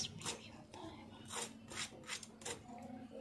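Several crisp, crackly snaps and rasping crunches as a crispy green pea snack is broken apart up close, quiet with short pauses between breaks.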